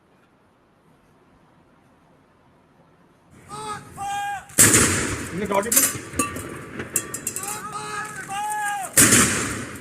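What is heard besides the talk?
21 gun salute, artillery gunshots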